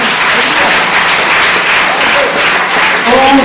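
A church congregation applauds and cheers in praise, a dense steady wash of clapping with voices mixed in throughout.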